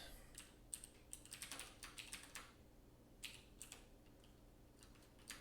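Typing on a computer keyboard, quiet irregular bursts of clicking keystrokes with short pauses, close and faint with no talking.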